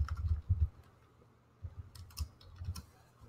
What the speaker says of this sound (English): So once I start typing